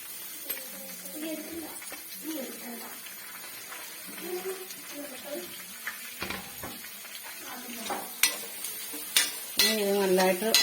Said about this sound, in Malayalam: നമുക്കിനി സവാള അരിഞ്ഞതിടാം.